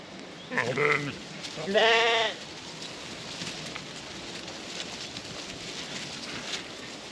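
Suffolk sheep and lambs bleating in a field: two loud, close bleats early on, then a steady soft outdoor hiss with no further calls.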